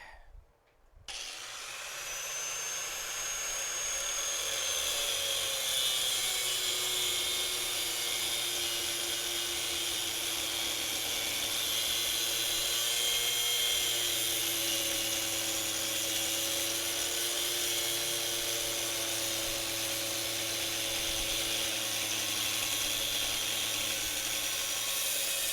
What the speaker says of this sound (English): Back to the grinder.